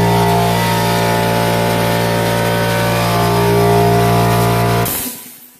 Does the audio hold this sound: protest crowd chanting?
no